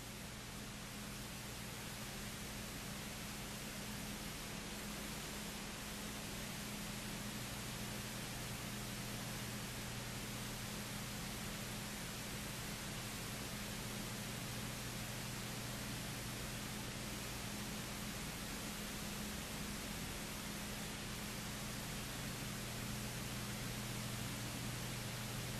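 An airbrush sprays paint onto a shirt for a portrait, giving a continuous even hiss that stays steady and close for the whole stretch, with no talking.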